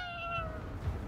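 A cat meows once in the Ghostwire Tokyo video game, a short, clear, falling cry heard close and alone.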